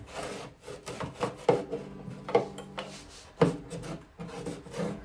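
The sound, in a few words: rubbing a wooden cleat inside a guitar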